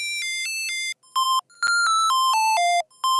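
A synth lead EQ'd with too much low end cut, so it sounds thin and bright: a short run of clipped, ringtone-like notes stepping up and down over about three seconds, close and alone.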